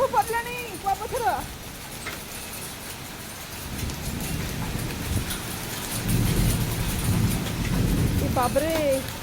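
Hailstones pelt down through a thunderstorm with heavy rain, a steady dense roar that swells louder toward the end, with a few brief voices at the start and close.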